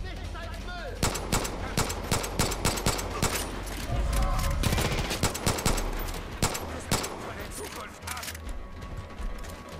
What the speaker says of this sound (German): So, jetzt nehmen wir hier mal die knallharte Knarre.